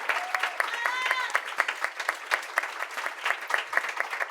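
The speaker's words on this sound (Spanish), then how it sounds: "Un aplauso para este gran panel." Audience applause for a literature panel, a steady patter of many hands clapping at close range, sustained throughout with a few louder claps standing out.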